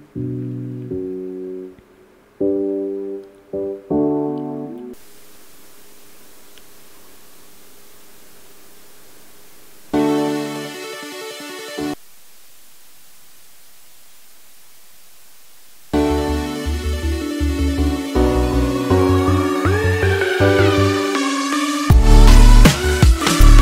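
Electronic outro theme song for Arctic Jack, built up in sections: a melody with bass and synth layers, starting sparse and stopping and restarting in short bursts before the full arrangement plays loud and dense toward the end.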